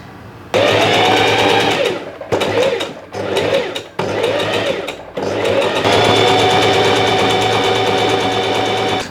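A sewing machine stitches the seams of a linen shirt, running loud and close in a high whirring burst, stopping and restarting several times, then running continuously to the end.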